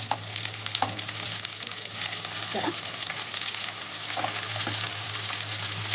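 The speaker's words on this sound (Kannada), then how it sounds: "ನೋಡಿ ಇವಾಗ ಫ್ರೈ ಆಗಿದೆ ಇವಾಗ ಸೊಪ್ಪನ್ನ ಹಾಕೊಳ್ಳೋಣ" Freshly chopped home-grown dantu soppu greens fry in a hot pan for palya, giving a steady, soft sizzle with a few faint stirring scrapes and a low steady hum underneath, close by and quiet.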